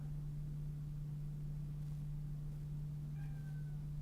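A house cat gives a short meow near the end, fairly faint over a steady low electrical hum in an indoor room.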